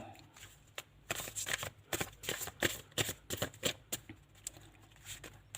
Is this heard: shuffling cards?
yes